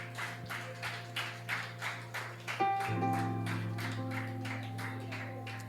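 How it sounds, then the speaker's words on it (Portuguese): A church congregation claps together in a steady rhythmic beat, with sustained keyboard tones joining underneath partway through. "Pode aplaudir, irmãos, a Jesus."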